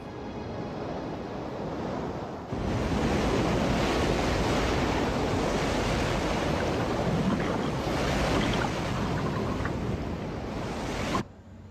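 Old footage of tsunami water rushing inland, a loud, continuous roar of churning surf and wind that swells suddenly after a quieter start and holds steady throughout.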